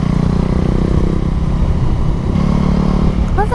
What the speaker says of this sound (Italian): l'unica cosa che mi dà gioia è il rombo del MIV.